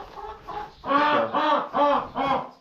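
Chickens clucking in a barn during cold weather, a close series of about five rhythmic clucks and squawks, growing louder after a softer start, with no talk.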